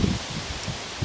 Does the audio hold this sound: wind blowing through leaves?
yes